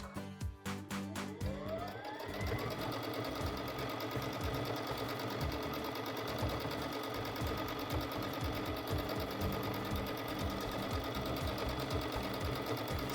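A Chorus sewing machine stitches during free motion quilting, spinning up over the first two seconds, then running as a steady, rapid, close mechanical whir and needle chatter.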